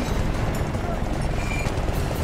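Helicopter in Battlefield: Bad Company 2, a dense, loud rotor and engine roar amid battle noise, with a voice talking over it.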